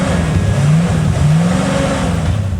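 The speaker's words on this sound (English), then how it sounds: "Hearing the engine he had rebuilt hum along made him smile" Rebuilt engine of a restored 1960 Corvette running nearby, a loud steady mid-pitched rumble that rises slightly in pitch twice as if lightly revved, with no talk.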